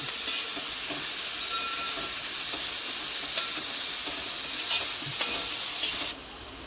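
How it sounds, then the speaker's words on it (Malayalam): Whole spices such as cloves and cinnamon sizzle and crackle in hot coconut oil for chicken biryani, a steady close frying hiss with scattered pops and stirring clicks, fading slightly at the end. "ഈ വെളിച്ചെണ്ണയിൽ നമുക്ക് ഗ്രാമ്പൂ പട്ട എല്ലാം ഫ്രഷായിട്ട് ചേർക്കാം"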